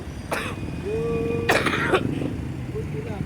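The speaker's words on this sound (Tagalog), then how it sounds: "Inuubo pa nga ako" Two short, harsh coughs burst out close by, about a second apart, over steady traffic rumble and a low murmur of voices.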